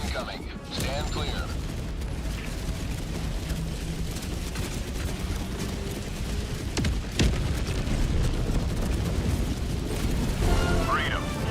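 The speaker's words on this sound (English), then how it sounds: "Orbital barrage incoming." Orbital barrage strikes in the video game Helldivers 2 produce a low rumbling bed of booms and crashes, with a sharper impact partway through, heard under ongoing talk.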